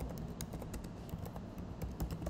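Keystrokes on a computer keyboard while entering Urdu text through an online typing tool, a steady stream of close, quick taps with irregular spacing and no voices.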